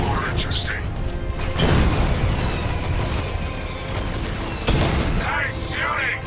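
Gunfire in the Batman Arkham Knight video game, dense bursts of shots and booms running continuously under loud game sound, with heavier impacts near the two-second and five-second marks and a voice speaking over the action.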